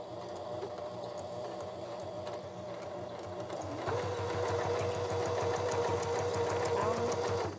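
A sewing machine stitching fabric, a steady mechanical whir that stops briefly and then resumes louder and faster, close up, with some quiet talking.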